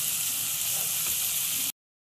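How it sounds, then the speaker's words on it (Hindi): Onions frying lightly in a pan for macaroni give a steady, even sizzle with a bright hiss, heard alone and close for under two seconds before cutting to silence. "प्याज को मैं हल्का सा भुनने दूंगी।"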